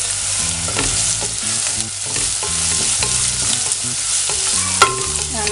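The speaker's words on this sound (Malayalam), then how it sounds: "ഇതിലോട്ട് നമ്മൾ കുറച്ച് കറിവേപ്പില ഇട്ട് കൊടുക്കാം." Curry leaves and garlic sizzling and crackling in hot oil for a Kerala raw mango pickle, a steady loud frying hiss with stirring clinks throughout and no voices.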